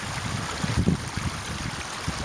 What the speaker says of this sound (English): How nice is this creek though?